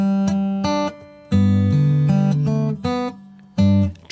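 Acoustic guitar strums Silent Night chords in short, choppy bursts, each chord cut off quickly rather than left to ring, played close and clear with no voice.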